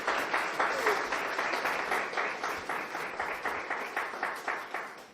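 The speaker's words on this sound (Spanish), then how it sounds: "a quien le damos un caluroso aplauso de verdad" Warm audience applause for a speaker at a rural sustainability talk, a steady patter of clapping with rhythmic swells, moderately distant and without speech.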